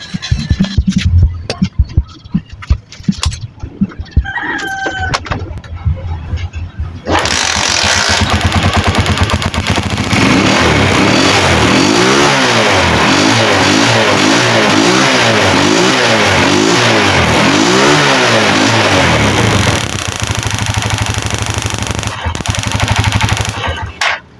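A misfiring motorcycle's engine starts after some clicks and clatter, then revs repeatedly in rising and falling waves, loud and close.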